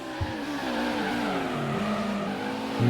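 A race car in Gran Turismo on the PS1 roars along in a long slide with tire squeal, and its engine pitch wavers throughout. It is loud and continuous with no talk.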